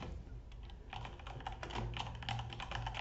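Someone types on a computer keyboard while writing a letter in a Word document. The keys make a steady, quiet clatter up close, with no talking.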